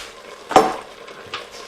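Garlic dropped into hot oil in an Instant Pot for keto beef stroganoff gives one short burst of sizzling and stirring, followed by a fainter clink or scrape about a second later.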